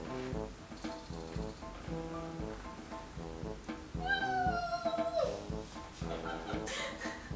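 A female cat gives a single drawn-out meow as she is picked up, heard clearly over a steady, harmonic background.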